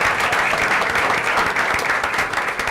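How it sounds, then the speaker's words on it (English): Loud, steady round of applause from the audience at a school district board of trustees meeting, dense continuous clapping filling the room with no voices on top. "Let's give Scott a round of applause."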